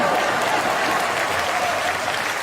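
Audience applause fills a TEDx talk venue, a dense, steady wash of many hands clapping at once, loud and sustained without pause and with no voices over it.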